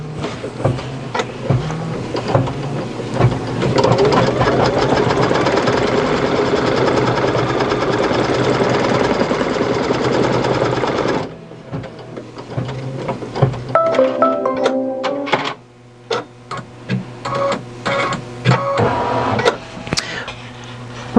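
An embroidery machine stitches a tack-down run, a steady rapid mechanical needle chatter for about ten seconds that then breaks into shorter stop-start bursts with brief pauses.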